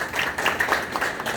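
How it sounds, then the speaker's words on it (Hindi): Audience at a commemorative public gathering breaks into loud, sustained clapping, a dense wash of hand claps with small surges throughout. "एक बार जोरदार ताली होनी चाहिए"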